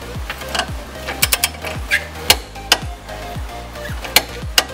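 Torque wrench ratcheting a ball joint nut on a 1990s Toyota Corolla, set to 50 foot-pounds: a steady run of about ten crisp ratchet clicks, close and fairly loud, with sharper snaps near the end and no talk.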